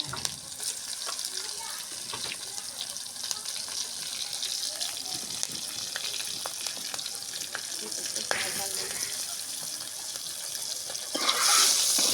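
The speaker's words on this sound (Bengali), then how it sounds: "পাটের শাক ভাজার জন্য" Continuous sizzling and crackling of jute greens frying in hot oil with onion and green chilli, steady and close, with a brief louder hiss near the end.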